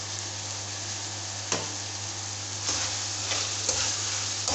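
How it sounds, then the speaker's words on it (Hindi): Chicken frying in a pan while cooking Chinese rice gives a steady, close sizzle with a few brief bursts of stronger crackle, and no talking. "चिकन को भी हम हल्का सा फ्राई कर लेंगे।"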